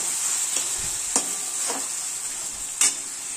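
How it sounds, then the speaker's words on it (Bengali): Kochu shak (taro leaves) frying in a pan with sugar and Kashmiri chilli powder, a steady close sizzle with a few scraping stirs of the spoon breaking through at intervals. "এটাকে আবার আমি ভালো করে কষতে দেব"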